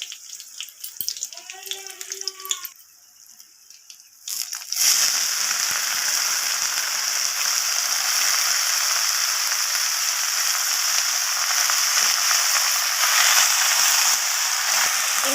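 A voice talks briefly, then a sudden loud, continuous sizzle erupts as chopped leafy greens hit hot oil with tempered spices and keep frying steadily and close up for the remaining ten seconds.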